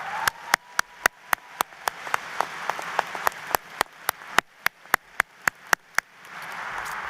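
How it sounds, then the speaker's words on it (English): Commencement audience applauding department heads at a college ceremony: sparse, distinct hand claps spaced out over a soft wash of clapping, steady for several seconds before thinning out near the end. "Let's give them all a round of applause."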